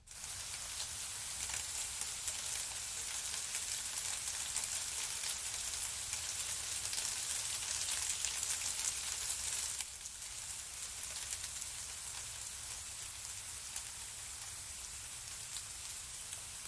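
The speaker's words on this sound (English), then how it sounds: "Oh, there it is, the rain." Steady rain falls continuously, a dense broadband hiss of drops hitting surfaces, with a slight drop in intensity partway through and no voices.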